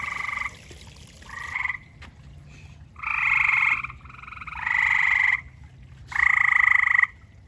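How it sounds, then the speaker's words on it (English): Small frogs in a backyard habitat call loudly and nearby in long buzzing croak bursts separated by short pauses, with nothing else heard over the quiet background. "looking for some audio of frogs chirping, here you go."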